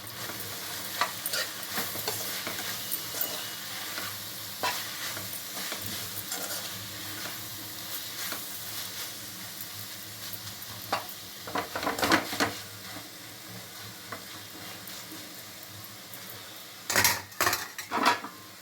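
Dry prawns and ridge gourd curry with coriander powder and garam masala stirred in a pan, with scraping and clinking of a spoon against the pan recurring through a soft sizzle and sharper clatters near the end.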